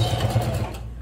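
A sewing machine stitching a bag: a close, rapid mechanical whir with an even pulsing rhythm that runs briefly before trailing off.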